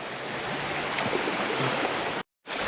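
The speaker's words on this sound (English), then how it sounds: "I got the splish splashing of the water next to me" Water splashing and lapping beside a firm sandy beach on the Fife coast, a steady broadband wash that runs continuously, then cuts out abruptly near the end.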